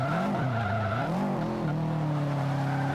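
A C-class all-wheel-drive race car in Forza 5 squeals its tires under late braking, a loud continuous screech with wavering pitch over engine drone, sliding downward before levelling off near the end.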